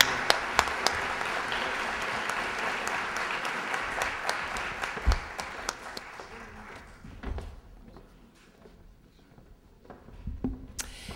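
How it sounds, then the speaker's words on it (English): An audience at a 2006 Utah 3rd Congressional District primary election debate applauds the candidates steadily, the clapping thinning and fading out over several seconds, with a few scattered claps and thumps near the end. "join me in a round of applause for our congressional candidates"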